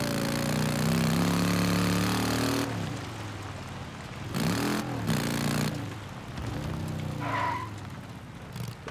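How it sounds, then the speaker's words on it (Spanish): Motorcycle engine idling in Days Gone, a loud steady low rumble with wavering pitch that cuts off and returns in short stretches, heard alone without talk. "Bueno, la moto la voy a dejar."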